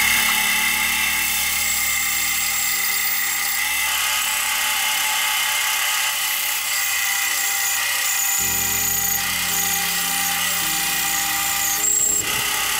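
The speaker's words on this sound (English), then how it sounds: "I'm going to cut off this bit of a leg here. I'm going to do that with a bandsaw." A bandsaw cuts a protruding leg off a firewood log, a loud continuous high whine that deepens in tone partway through as the blade works the wood, with no talking.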